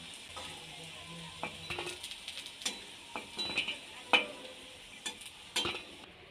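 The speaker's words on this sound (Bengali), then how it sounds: "এবার এইভাবে আমি সবগুলো ভেজে নেব" Pumpkin leaf pakoras fry in hot oil with a steady crackling sizzle, punctuated by sharp clinks and scrapes of a utensil against the pan.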